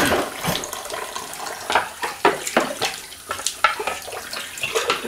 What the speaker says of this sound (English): Just a bit of a rinse.